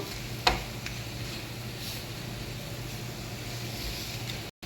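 Masala frying in oil for mango pickle in Saudi Arabia: a low, steady sizzle with a soft clink near the start, fairly faint and continuous, with no voices.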